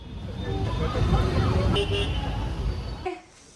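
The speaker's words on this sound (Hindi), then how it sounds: "ये है मेन रोड की लाइट्स एंड ट्रैफिक" Main road traffic at night: a steady rumble of passing cars with a brief horn toot partway through, close and moderately loud, while someone talks over it before the noise drops away.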